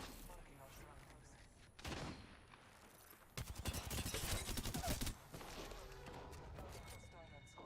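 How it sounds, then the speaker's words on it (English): Gunfire rattles in a sci-fi shooter video game, a dense, rapid stretch of shots in the middle after a single earlier burst, heard amid game ambience and a speaking voice. "Taking fire, Ross"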